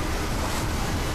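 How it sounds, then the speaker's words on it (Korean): A giant waterfall roars in an action movie scene set in a river gorge, heard as a loud, dense, unbroken rush of water that stays steady throughout. "온 세상을 집어삼킬 듯 거대한 폭포에 빨려 들어가기 일보 직전"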